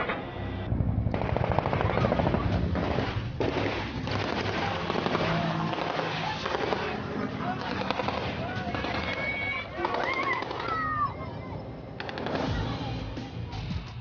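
Bursts of rapid gunfire from an aircraft crackle repeatedly over radio-style chatter, with voices talking throughout in a compressed, communications-like tone.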